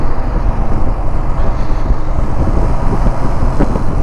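A vehicle rolls slowly in third gear at about 40 along a country road past farm fields on an Assam to Meghalaya road trip, with steady engine rumble and wind buffeting the microphone throughout.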